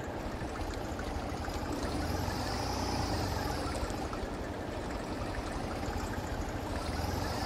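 A tractor engine drones in Farming Simulator 22 during a barley harvest, a steady, dense rumbling roar that holds without a break.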